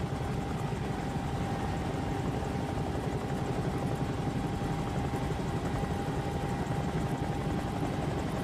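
Bell 222 helicopter in a flight simulator, its rotor and turbine drone running steady and loud throughout, with a faint high tone held over the constant low rumble.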